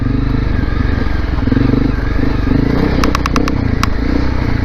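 Honda CRF250L Rally motorcycle riding off-road on a rough trail, its engine droning steadily and loud throughout, with a quick burst of sharp clicks and rattles near the end.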